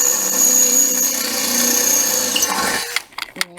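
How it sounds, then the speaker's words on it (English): A power drill whines steadily at close range drilling out bolts on a Range Rover's side bars, then winds down and stops, leaving brief clanks and short mechanical bursts. "So what we need to do is drill out"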